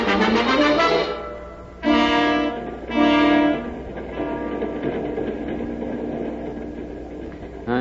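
A steam train effect in a radio drama, with loud chugging, hissing and whistle-like blasts in bursts before settling into a steady rolling rumble.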